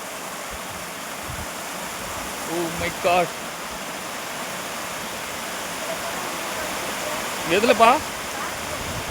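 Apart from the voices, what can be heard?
fast-flowing river water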